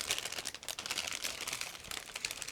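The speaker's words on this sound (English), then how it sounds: "all frames are packed into the same plastic bag, and I just need to open them" A plastic bag holding the sprue frames of a 1/72 scale ICM ZiL-131 model kit is opened up close, giving a busy, continuous crinkling and rustling with no voices.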